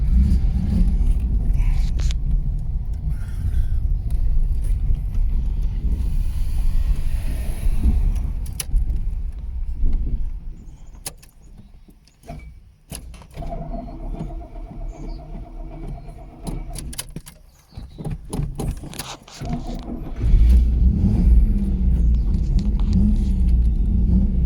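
A 1983 Chevrolet Camaro engine runs loud and close, a heavy low rumble that surges, drops back around the middle, then swells again toward the end, with some rattling and clatter mixed in.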